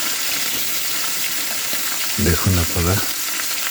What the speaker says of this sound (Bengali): আগে মাছটা ভেজে নিচ্ছি কড়া করে ভেজে নিচ্ছি